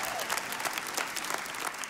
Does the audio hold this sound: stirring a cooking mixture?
no